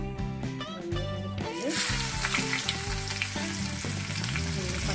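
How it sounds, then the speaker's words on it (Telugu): Small brinjals for a stuffed brinjal and peas curry fry in hot oil, giving a steady, fairly loud sizzle that swells after the first couple of seconds. Tonal background music plays throughout. "వంకాయలు ఇట్లాగా బాగా ఆయిల్లో వేయించుకోవాలండి బాగా వేగేలా చేస్తాము"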